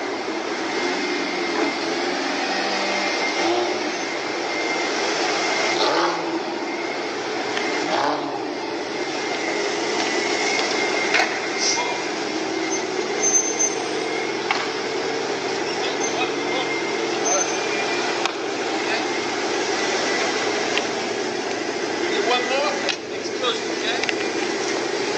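A loud car sits running at a stoplight, its engine giving a sustained broadband roar with a few brief louder swells and bumps, close and fairly steady for the whole stretch.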